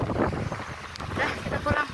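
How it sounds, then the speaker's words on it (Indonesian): Strong wind with rain at Sawarna beach, a steady gusty roar buffeting the microphone from start to finish, with faint voices underneath. "Ini anginnya kenceng banget. Nah ini angin hujan."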